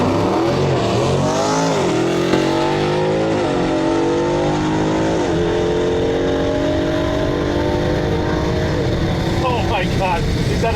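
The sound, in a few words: Dodge Challenger Hellcat on slicks accelerating in drag race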